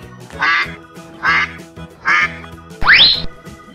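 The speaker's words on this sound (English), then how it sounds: "It's a duck." A duck quacks four times in a steady rhythm, the last quack rising and sharper, close and loud against a quiet background.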